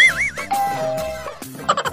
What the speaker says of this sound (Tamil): யார் இந்த நேரத்துல வந்து காலிங் பெல் எடுத்துறது?